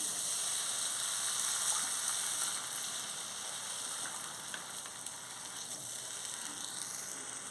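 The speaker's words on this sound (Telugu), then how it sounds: "ఇప్పుడు మనం ఇందులో కొంచెం వాటర్ వేసుకుందాం" Steady hiss and sizzle of water hitting a hot pan of raw banana curry, a continuous bright frying sound that holds fairly even throughout with no talking.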